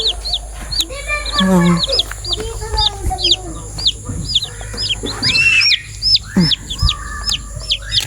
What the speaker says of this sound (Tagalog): May maliit na sisiw.